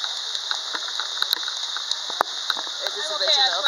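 Rain pours down steadily close to the recorder during a theme park visit, a constant hiss broken by sharp drops striking nearby surfaces, with a person talking over it toward the end.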